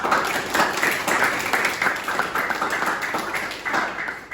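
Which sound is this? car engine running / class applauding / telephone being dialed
class applauding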